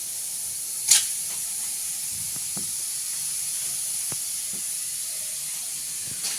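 Tomatoes drop into hot oil and sizzle, a steady bright hiss running throughout with a sharp spit at the start and faint clicks of a pan, no talking.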